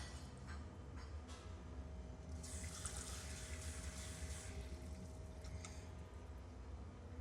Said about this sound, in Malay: Masukkan 2 cawan air.